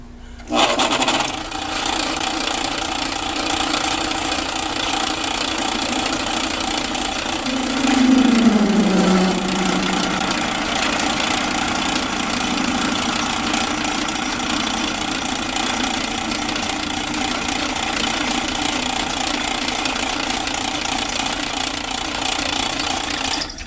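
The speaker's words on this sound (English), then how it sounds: "Holes drilled." A drill bores holes for rivnut threaded inserts, a loud sustained grinding whine running almost without a break, with a brief downward pitch sweep partway through as the bit works the metal.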